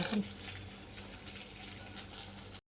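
Tap water runs steadily in a sink while ridge gourd and potato pieces are washed under it, a continuous close splashing hiss that stops abruptly at the very end.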